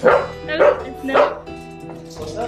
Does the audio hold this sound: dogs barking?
yes